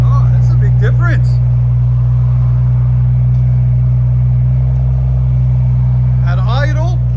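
Inside a BMW 740i, the engine idles with a loud, steady low hum. Someone talks over it near the start and again near the end.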